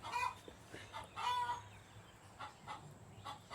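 Backyard chickens cluck in short scattered bursts at close range while ducks gather nearby, with a steady low hum beneath and no talk.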